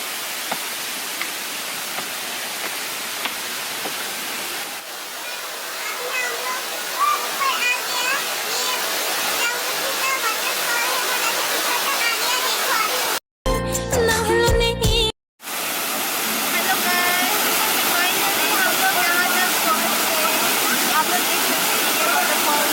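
Langvoku waterfall in Karbi Anglong roars as a loud, continuous rush of falling water, close and dense, briefly cut by a short burst of other sound in the middle before the roar resumes.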